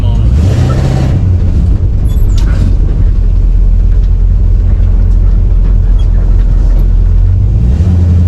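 A 1955 station wagon fitted with new disc brakes speeds up, its engine note rising, then brakes hard, while heavy road noise and a roaring engine dominate, close and loud.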